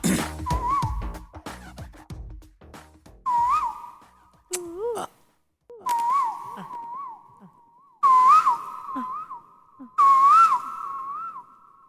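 Several bursts of clear, melodic human whistling imitating a koel's call, rising and warbling phrases repeated with short pauses between them.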